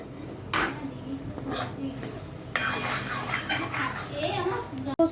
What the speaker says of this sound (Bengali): আমাকে হাতা করে করে ডিমটাকে তুলতে হচ্ছে